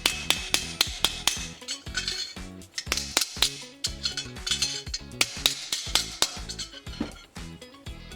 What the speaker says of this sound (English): Let me hammer it out with my other little hammer, if I can find it.